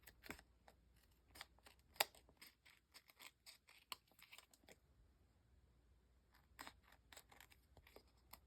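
Scissors snip through excess card paper along the edges in quick irregular clusters of sharp crisp cuts, close and quiet, with a pause midway before a few more snips.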